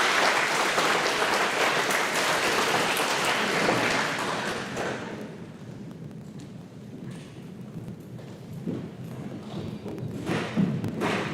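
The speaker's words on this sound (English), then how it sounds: "round of applause for you" Audience at an 8th grade award ceremony claps for students, dense loud applause for about four seconds that then thins into scattered, fading claps and a few thumps, with no talking.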